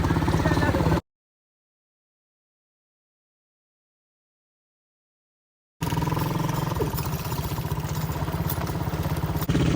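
A tractor-like vehicle engine drones and clatters steadily at close range, cut by a sudden stretch of total silence, then the rumble resumes.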